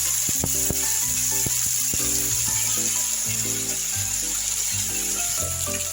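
Chili, garlic, cumin, coriander and ginger pastes frying in a pan, a steady hiss of sizzling with low clinks and a soft background hum.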